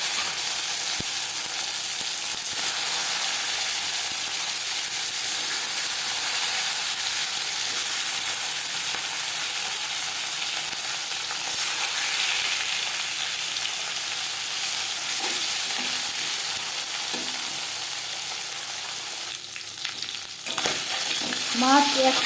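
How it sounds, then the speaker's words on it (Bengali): Marinated stinging catfish (shing) frying in hot refined oil in a home kitchen, a steady loud sizzle throughout, with a few clinks and spatters near the end and no talk. "3 চামচ রিফাইন্ড অয়েল গরম করে নিয়েছি। এবার দিয়ে দেবো ম্যারিনেট করে রাখা মাছ।"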